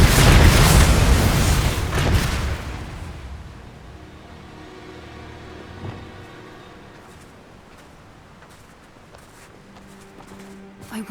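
A Bombarda spell explosion in Hogwarts Legacy: a loud, heavy boom that rolls and slowly fades over several seconds into a quieter rumbling tail, with a smaller thud partway through.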